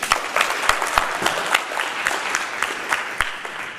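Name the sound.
audience clapping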